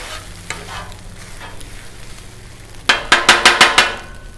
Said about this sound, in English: let's just mix it on up